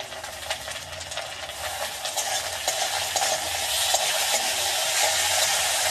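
Potatoes and onions fry in a pan, a steady close sizzle with frequent stirring scrapes, the hiss building slightly louder over the stretch with no voices.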